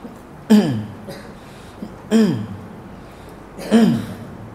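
Three short, deliberate throat clearings, evenly spaced over a quiet background, each a low guttural rasp.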